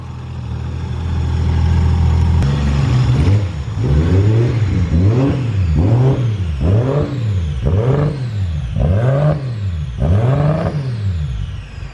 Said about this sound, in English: This turbo sounds sick.